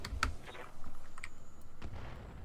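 A weapon fires in the video game Roguepoint, a sharp burst early on followed by a steady low rumble and a few fainter impacts, heard alone without talk.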